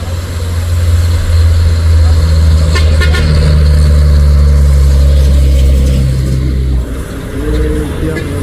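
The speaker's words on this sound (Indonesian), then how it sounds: "Ada truk sayur dan truk box." Vegetable truck and box truck rumbling past on a busy road, with a steady loud low engine drone, a brief horn toot around the middle and a speaking voice over the traffic.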